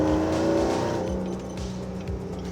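A 2016 Chevrolet Silverado pickup, a Dirt King pre-runner, with its engine note rising under acceleration, steady and fairly loud with a rhythmic low pulsing and no talk over it.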